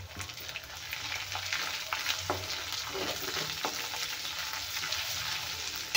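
Spices with turmeric sautéing in a pan for an aloo bread roll filling, a steady close hiss of frying with occasional scrapes and stirring knocks throughout, no voices.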